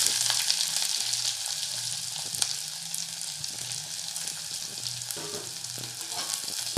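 Mustard seeds and onion fry in hot oil for a Tamil egg curry with drumstick flowers, giving a steady, close sizzling hiss with faint crackles and low stirring bumps throughout, with no talking.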